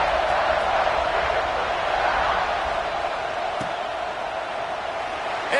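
Steady roar of a football stadium crowd at an NCAA game around kickoff, a dense, loud, sustained wash of cheering voices filling the space with no break.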